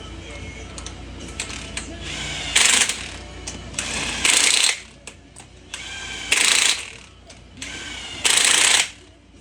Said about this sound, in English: tighten each one down till you hear it click